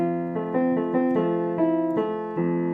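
A piano passage with steady chords and repeated eighth notes in a middle voice that stand out too strongly, sounding heavy and uneven against the melody.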